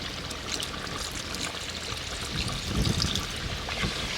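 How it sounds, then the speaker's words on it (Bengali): Water pours in a steady, gentle stream into a pot of fenugreek chicken in a village kitchen, a soft continuous trickle that swells slightly toward the end. "এবার জল দিয়ে ঢাকা দিয়ে দেবো"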